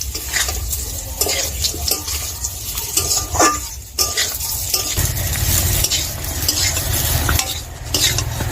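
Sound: stirring mango pieces in hot oil for pickle

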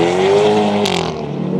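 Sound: Hyundai i30N hot hatch driving on race track

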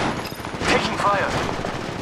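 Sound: enemy gunfire in the video game Apex Legends Mobile

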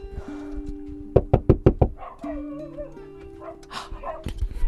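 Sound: dogs barking at a house

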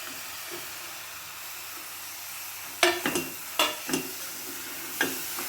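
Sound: tomatoes added to a pan, sizzling on low heat

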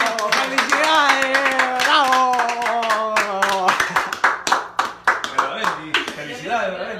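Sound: applause for a raffle winner

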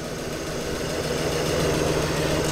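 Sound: car engine idling

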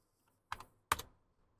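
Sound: typing a number on a computer keyboard

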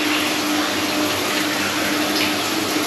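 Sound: electric Mira rainfall shower running

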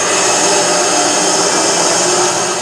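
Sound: chainsaw in Alan Wake video game

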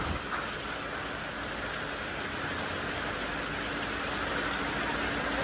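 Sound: hailstorm falling on the road

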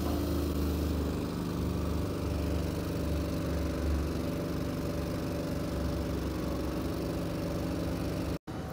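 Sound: hydraulics raising flip axle on Fontaine MX55 trailer

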